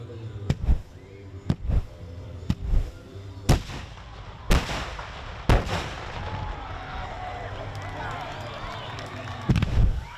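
Fireworks shells burst in sequence, buckets then barrels, a run of sharp booming reports spaced a second or so apart, some doubled and echoing, with a crackling tail between blasts and a closing cluster of bangs.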